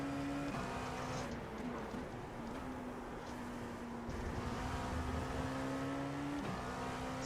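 Racing video game engine of an LMP2 prototype car at Watkins Glen, a steady loud drone with a sustained tone that shifts pitch at gear changes, continuous throughout with no talk.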